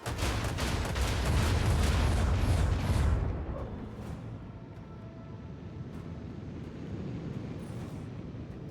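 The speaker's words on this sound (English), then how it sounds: "Macro cannon. Open fire. Fire at will." Macro cannon fire in the Warhammer 40k Rogue Trader video game: a dense, roaring barrage of heavy booms for about three seconds, then a lower rumbling tail that carries on with scattered distant thuds.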